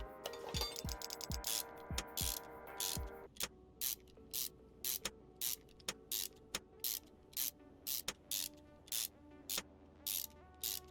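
A ratchet tightens cylinder head bolts in the Car Mechanic Simulator 21 video game, giving quick rhythmic bursts of clicking, one short run after another, close and fairly loud, with no talk over it.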